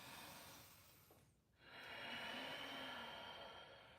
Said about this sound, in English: same but with your mouth closed, same sighing ocean sound, inhale